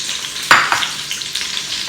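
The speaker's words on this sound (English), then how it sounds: "we're going to let these saute for about 5 minutes until they're translucent and soft" Vegetables sizzling in an Instant Pot on the sauté setting, a loud bright hiss with a sharp burst as they hit the hot pot, then a steady frying crackle close up with no talk.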